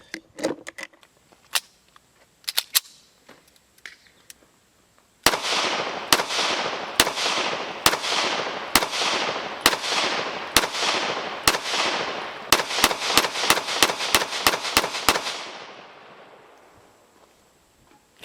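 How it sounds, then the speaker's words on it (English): Springfield Armory Echelon pistol with an aluminum chassis fires a string of about fifteen sharp, loud shots at a steady pace outdoors, each echoing briefly, after a few fainter clicks and clacks at the start; no talking. "I love polymer frame pistols, but going back to this aluminum chassis, man, this thing shoots really sweet."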